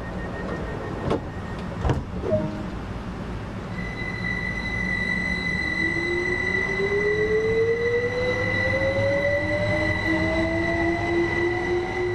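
A train on the East Coastway line near Eastbourne in Train Sim World rolls steadily along the rails with a constant rumble, a few sharp clunks early on and rising wheel squeal tones in the second half.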